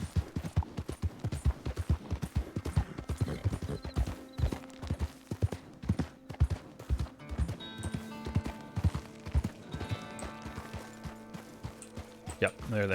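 Horse hooves clip-clop steadily at a riding gait in a western roleplay video game, a continuous rhythmic patter close by, with someone talking over it and occasional louder thuds.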